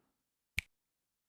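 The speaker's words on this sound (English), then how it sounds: "I was looking for a good finger snap before." A single crisp finger snap from a percussion sound library, one sharp isolated click against silence.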